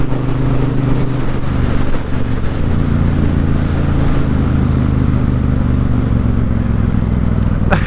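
A Triumph Bonneville Bobber motorcycle pulls away loudly after an upshift, its engine droning steadily at close range under strong wind rush, with a brief mechanical clack near the end.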